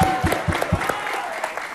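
Studio audience applause on an Indonesian TV talk show, a few distinct heavy claps at the start that soften into a thinner, fading patter of clapping.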